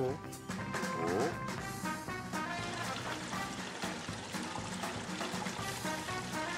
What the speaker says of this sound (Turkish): Bakalım artık musluklar çalışıyor mu?